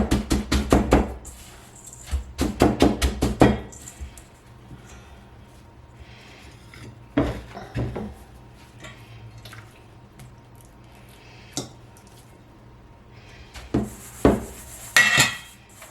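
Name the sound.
coating veal cutlets in breadcrumbs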